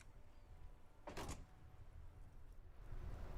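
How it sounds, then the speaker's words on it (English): A door slams with one sharp, loud bang in the video game Disco Elysium, the impact ringing briefly over a low, steady room hum. "Does it look like I shut the door, but then it just slammed back open?"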